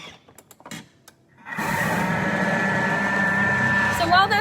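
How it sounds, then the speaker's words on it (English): A Thermomix blends milk and vanilla at speed 5 for marble cake batter. After a few quiet clicks, a steady, loud motor whir kicks in and holds, with a thin whine near the end. "So now blend for 30 seconds on speed 5"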